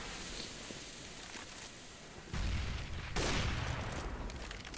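A grenade goes off in Counter-Strike during a NiP versus NaVi match: a low broadband boom hits suddenly and a second burst swells just after, both fairly loud over steady game ambience.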